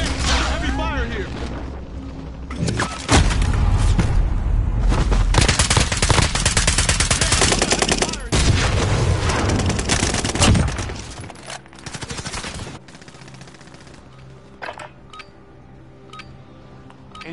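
Heavy gunfire in a Call of Duty–style shooter game: dense, loud bursts of rapid automatic fire and booms that run continuously for several seconds before thinning to scattered shots, with voices talking over it.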